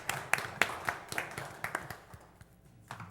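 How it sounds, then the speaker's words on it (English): A small audience at a public hearing gives scattered applause, a handful of sharp claps spaced irregularly that thin out and fade toward the end, heard at moderate distance. "You guys can clap."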